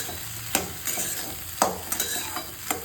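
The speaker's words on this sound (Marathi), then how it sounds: "छान व्यवस्थित परतून घ्यायचं." Spiced onion and tomato mixture sautéing in a pan, a soft low sizzle broken by several sharp spoon scrapes and taps against the pan, close and quiet.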